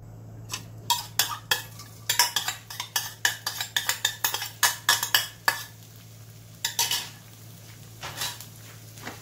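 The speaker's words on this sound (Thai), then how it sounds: "เดี๋ยวเอาพริกลงไปผัดเลยนะครับ" Rapid metal spatula clatter and scraping against a pan while chilies are stir-fried in a spoonful of oil for Thai basil shrimp, in uneven bursts over a faint sizzle and low hum.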